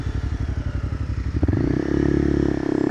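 A 2017 Kawasaki Z125 Pro motorcycle, its small engine first chugging in a low pulsing idle, then revving up into a louder, smoother drone as it pulls away, close by.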